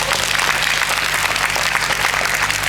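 A seated audience applauding together at a lecture gathering, a dense, loud, even wash of clapping from many hands filling the whole moment without pause.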